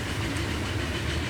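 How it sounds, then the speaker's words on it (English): Freight train rolling along in Transport Fever 2, hauling a load of machines toward Concord on a western line; a steady, dense rumble with a faint hiss and rail clatter, continuous and fairly close, no voices. "There's a freight train that is going all the way to Concord with hopefully a whole load of machines."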